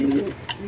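Pigeons cooing close by in a loft, a soft low coo followed by a brief rustle, heard alone over a quiet background.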